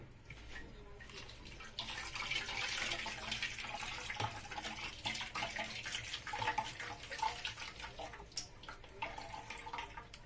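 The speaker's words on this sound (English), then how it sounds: "So I'm going to add a bit more of water." Water pours steadily into a pot while fish and yam pepper soup with plantain is being made, a continuous near splashing flow lasting several seconds without speech.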